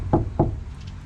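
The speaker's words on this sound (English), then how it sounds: "So I'm gonna do the 3 knocks one more time." Two solid knocks on the cabin panel of a Daihatsu HiJet kei truck fitted with sound deadening, each a dull, damped thud about a quarter second apart, close and fairly loud, followed by quiet.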